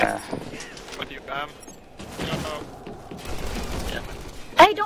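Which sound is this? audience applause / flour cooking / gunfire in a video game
gunfire in a video game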